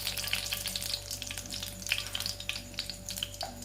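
Bay leaf and curry leaves sputter in hot oil, a soft, continuous crackling sizzle with small irregular pops and a faint steady hum beneath.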